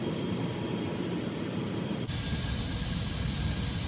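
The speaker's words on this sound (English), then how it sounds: "Use some WD-40 on the packing gland bolt." WD-40 aerosol spraying onto a valve packing gland bolt: a steady, loud close hiss that runs throughout and jumps in strength about halfway through, with no talk.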